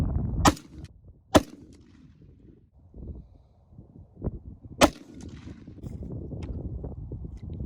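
A 6.5 Creedmoor rifle fires Federal 120 grain rounds outdoors, four sharp, loud cracks spaced a few seconds apart, each with a short echoing tail over a low background rumble.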